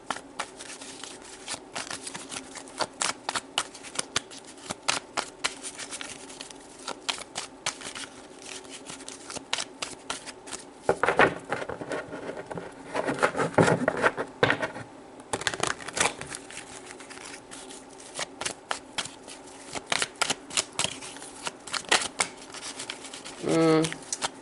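Tarot cards being shuffled by hand, a steady run of soft crisp riffling and flicking close by, with a person talking over parts of it.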